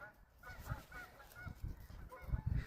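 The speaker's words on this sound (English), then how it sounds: "There's some ducks right there about to take off." Waterfowl call out in a series of nasal honks at moderate distance, repeated in irregular bursts over quiet outdoor background during a dog walk, with no talking.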